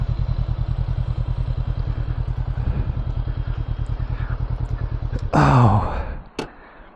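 Honda CB 500 motorcycle engine with a steady, pulsing exhaust rhythm throughout, building to a louder burst near the end before cutting away to quiet.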